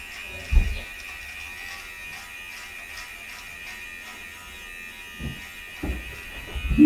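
MANSPOT electric hair trimmer clipping hair, a steady close buzzing hum that runs throughout with a few soft bumps and no speech.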